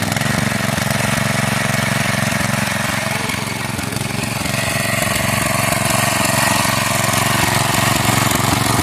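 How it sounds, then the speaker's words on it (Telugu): A steady water pump motor drones loudly and continuously, a low mechanical hum with a faint rattle that holds unchanged throughout, with no voices. "మోటార్ పెట్టి ఆ నీళ్లు కొడుతున్నారు"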